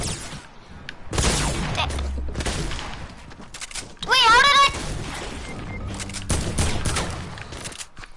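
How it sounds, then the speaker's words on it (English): Bursts of rapid gunfire from a shooter video game crackle in loud volleys, with a brief rising electronic warble mid-stretch, while a player's voice shouts excitedly over the shooting. "I'm trying to shoot them down!"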